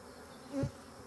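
A single honey bee buzzes briefly past during a hive inspection, a short low hum rising and fading within a second against a quiet background.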